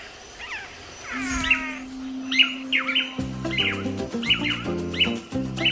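Male tangará manakins in Brazil's Atlantic Forest give loud, repeated whistled and buzzy calls in quick bursts, overlapping one another, with a sustained low tone and rhythmic pulsing notes joining partway through.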